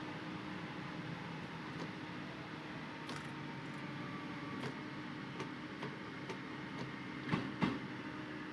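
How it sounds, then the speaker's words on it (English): Train motor from Train Sim World 4 gives a steady, close hum with a rumbling undertone. Faint rhythmic clicks run through it, and a couple of louder knocks land near the end. No one speaks. "These trains were fun to ride on. The motor sounds so cool."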